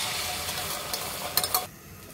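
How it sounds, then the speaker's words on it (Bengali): An egg fries in a pan with a steady sizzle, broken near the end by a couple of scraping stirs of a spatula before the sizzle drops away abruptly. "এখন আমরা আরেকটি ডিম এভাবে ভেজে নিব।"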